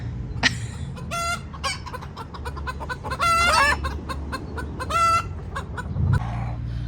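Several chickens cluck loudly and close by, with a rooster crowing in bursts over a steady low hum.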